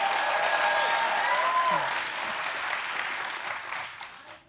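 A studio audience on a daytime talk show applauds loudly as a 12-year-old girl is welcomed onto the sofa; sustained close clapping that gradually tapers off toward the end, with a few faint voices mixed in.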